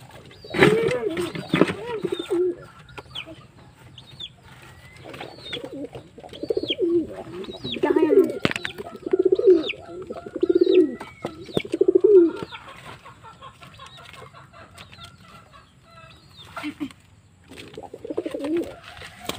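Domestic pigeons coo near a nest with eggs. Soft, close coos come in repeated rhythmic runs separated by quiet pauses.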